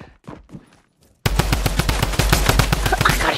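Rapid, evenly spaced bursts of Tommy gun fire in Fortnite, loud and close, erupting after about a second of near silence and running steadily to the end.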